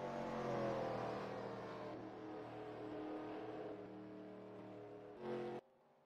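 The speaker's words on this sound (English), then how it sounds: "Love that pace car." A pace car engine in a NASCAR racing video game at Talladega drones steadily with a smooth, close hum, easing slightly in pitch before a brief louder surge and an abrupt cutoff.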